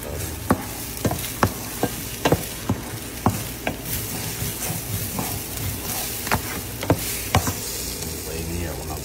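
Garlic fried rice fries in a pan, a steady close sizzle broken by a dozen or so sharp scraping taps of a spatula stirring at an uneven rhythm.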